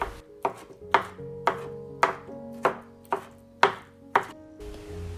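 A knife chops tomatoes into small pieces on a cutting board, about ten crisp, evenly spaced strokes sounding close and alone.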